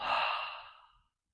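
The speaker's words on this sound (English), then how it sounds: "Taking a deep breath in and exhale out" A single deep exhale during a yoga session, a soft breathy sigh close to the listener that swells quickly and then tapers off into silence within about a second.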